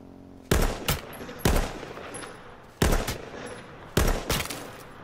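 Gunfire in the survival shooter H1Z1: four sharp bursts of two or three rapid shots each, loud and close, separated by short pauses with a faint hiss between them.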